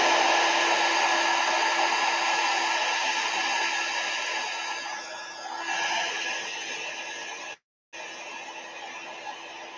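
A heat gun blows hot air to melt embossing powder for DIY washi tape, a loud, close, steady whooshing whine that dips in pitch midway and cuts out briefly near the end before resuming, with no talking.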